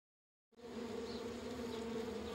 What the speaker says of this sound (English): upset the beehive and was chased by 47 angry bees